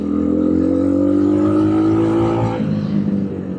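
A cheap 250cc street-legal dirt bike engine climbs uphill in third gear, a loud steady drone that rises gradually in pitch, then drops slightly near the end, with wind noise throughout.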